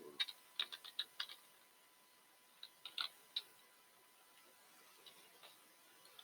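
Someone types a name on a computer keyboard: quick, light key clicks in a short burst, a pause, then a few more scattered taps, fairly close and quiet with no speech.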